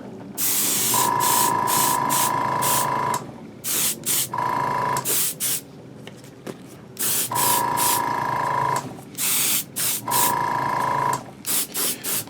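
An airbrush or spray gun sprays paint onto a five-foot Millennium Falcon replica model. Bursts of hissing spray, some several seconds long and some in quick short puffs, are separated by brief pauses, close and fairly loud, with a steady tone riding along in places.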